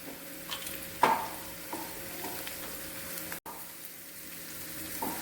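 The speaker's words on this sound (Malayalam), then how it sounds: "ഇതിലേക്ക് ചെറിയുള്ളി ഇട്ട് കൊടുക്കാം. നന്നായി മിക്സ് ചെയ്ത് കൊടുക്കുക." Shallots and salt fried and stirred in a pan for a cauliflower roast, a soft, even sizzle with a few light utensil knocks and scrapes, fairly quiet.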